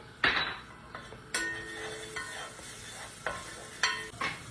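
Garlic cloves sizzle in onion oil in a pot for Egyptian koshari, a soft frying hiss broken by several sharp metallic spoon clinks against the pan.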